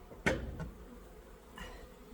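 Honey bees buzzing around hive frames during a colony merge, a short close burst of buzzing up front followed by a fainter, intermittent hum with a couple of softer flickers of wing noise.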